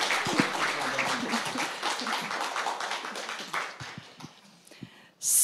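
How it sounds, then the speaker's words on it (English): Audience applause for a lecturer at a conference: a modest room of people clapping, fairly close, thinning into a few scattered claps before a sudden loud burst of noise at the very end. "So I would like to get applause for our lecturer."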